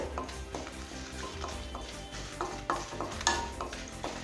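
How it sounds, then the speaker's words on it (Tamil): Dried red chillies roast in sesame oil for a garlic chutney. A low, steady sizzle runs throughout, with regular scraping stirs and a few sharper clinks of a spoon against the pan. "இப்போ மிளகாயை நல்லா வறுத்தாச்சு."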